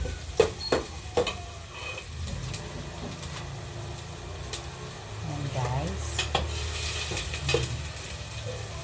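Garlic and onion sauté in a pan for chicken kaldereta, a soft continuous sizzle with scattered utensil clinks and stirring scrapes against the pan, while a person talks over it.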